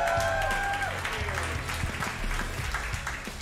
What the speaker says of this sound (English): Now please get the applause going for your next performer,